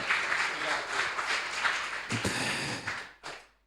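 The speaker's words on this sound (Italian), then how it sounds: "lo possiamo fare un applauso" Audience applause at an Italian talk on climate change: a steady spread of many hands clapping that thins toward the end, with a few louder claps near the close.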